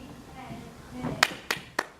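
An audience at a business event claps in a few sharp, separate bursts near the end, under and after a speaking voice.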